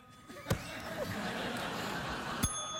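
A desk bell pressed on a late-night talk show sounds twice as sharp rings about two seconds apart, over a steady background of studio audience noise and faint talk.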